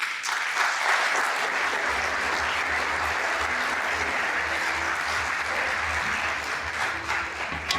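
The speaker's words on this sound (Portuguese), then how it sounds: "Peço um aplauso para chamar ao palco Tiago Pitta." A conference audience breaks into sustained, steady applause to welcome a speaker to the stage, the dense clapping filling the hall evenly and loudly with no speech over it.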